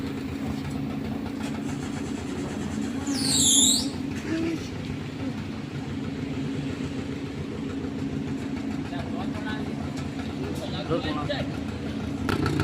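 Auto rickshaws and other vehicles idle in a queue at a CNG pump in Thara in the early morning, giving a steady low engine drone throughout with voices talking over it.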